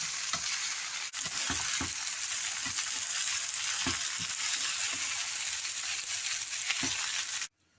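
Chicken chow mein stir-fried in a hot pan: a loud, dense, continuous sizzle with periodic scraping and tossing thumps from stirring, ending abruptly after about seven seconds, no talking.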